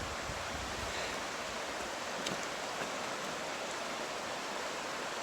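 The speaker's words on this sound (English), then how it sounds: "And this is the 10-mile river. So, pretty awesome, nice big river." A big river flows steadily beside a campsite on the Appalachian Trail, producing a constant broad rushing wash of water that stays even and unbroken throughout.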